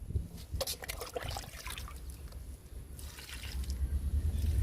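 Liquid fertiliser pours steadily from a watering can onto vegetable plants in a garden, a soft continuous trickle and splash close by with no talking.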